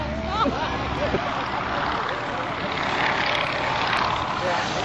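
A Stearman biplane, 32-foot wingspan and 25-foot fuselage, flying a barnstorming aerobatic routine at an air show, its propeller engine droning steadily and moderately loud throughout, with a faint voice in the background.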